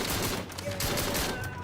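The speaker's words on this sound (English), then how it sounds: "Hate burst fire weapons." A burst-fire weapon in Battlefield 6 fires in quick, rapid bursts, loud and close, over a short stretch, with a voice briefly speaking underneath.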